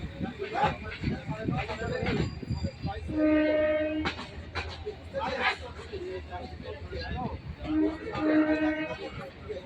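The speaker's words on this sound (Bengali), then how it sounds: "আমাদের ট্রেন এখন ক্রস করবে বিবেকানন্দ সেতু" Onboard a train crawling slowly across the Vivekananda Setu on the Dum Dum to Dankuni line, with repair work underway on the bridge: steady close rumble and rattle, two sustained horn-like tones, and passengers chattering throughout.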